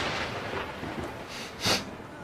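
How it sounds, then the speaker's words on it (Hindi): A thunder sound effect rumbles as a broad, noisy roar that builds to a sharp crack near the end, loud and alone with no talk. "ऐसे ही बिजली कड़की होगी भाई तेरे ऊपर"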